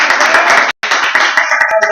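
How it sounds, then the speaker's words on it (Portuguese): Church congregation clapping for Jesus, a loud close burst of rhythmic hand claps mixed with music or voices, briefly dropping out before resuming. "E demos uma linda salva de palmas para Jesus."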